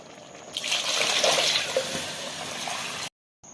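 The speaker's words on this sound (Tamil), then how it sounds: "அதனால் 6 கப் அளவுக்கு தண்ணி ஊற்றிக்கிறோம்." Water pours steadily into a pressure cooker pot with rice, a rushing splash, fairly close, then stops abruptly near the end.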